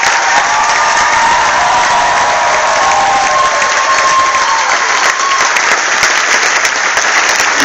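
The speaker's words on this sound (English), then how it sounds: "let's give Pat and his family another round of applause" Sustained audience applause at a school parent speaker event, loud and dense throughout with a few sharper claps near the end, no talking over it.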